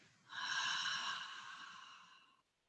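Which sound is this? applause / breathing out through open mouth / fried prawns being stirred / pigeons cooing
breathing out through open mouth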